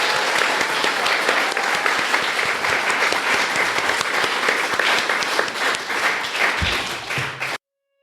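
Live audience applause at the CampFI Mid-Atlantic event, loud sustained clapping from a crowd, steady for several seconds before cutting off abruptly.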